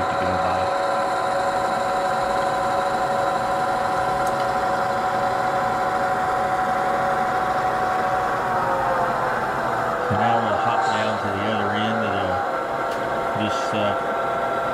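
Model diesel locomotives rumble steadily with a low idling throb, then rev briefly in short pulses near the end; voices murmur faintly in the background.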